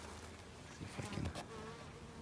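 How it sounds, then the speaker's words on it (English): Honeybees buzz around blossoming wild plum trees in late winter, a faint steady drone with one insect passing closer and louder for a moment. "bees are working this right now"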